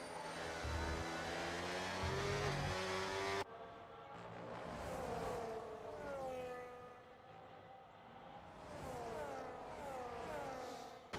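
Race cars from a Spanish Grand Prix racing video game roar steadily, engines pitching up and down as they accelerate and pass, fairly faint and continuous with no talk.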